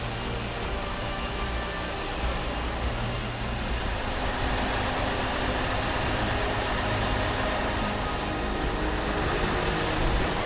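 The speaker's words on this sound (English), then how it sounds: "Finally, boarding completed. The pushback can begin." An Airbus A380 is pushed back at a busy European airport, giving a continuous broad roar of engines and ground equipment, steady and fairly loud throughout with no talk.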